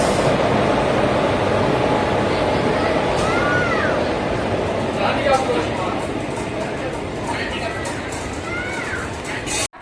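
Thanjavur–Mayiladuthurai Express pulls out of Thanjavur railway station on a crowded Sunday, a steady rolling rumble of the train with brief squeals and clanks, heard under chatter from passengers aboard.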